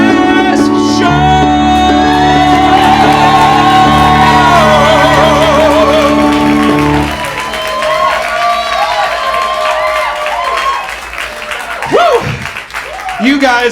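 A burlesque show crowd cheers, whoops and applauds loudly in a continuous roar that eases after several seconds, with scattered shouts continuing.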